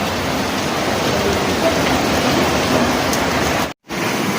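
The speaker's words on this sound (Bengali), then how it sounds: "বৃষ্টি হচ্ছে দেখুন শুধু।" Rain falling outside on an early morning in Darjeeling, a steady broadband hiss that stays even and fairly loud before a brief cut near the end.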